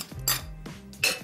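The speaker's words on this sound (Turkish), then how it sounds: "düdüklü tencerenin ağzını kapatıp" A metal pressure cooker holding braised meat and taro has its lid set on and closed in a home kitchen, with a few close metallic clinks and knocks across a second.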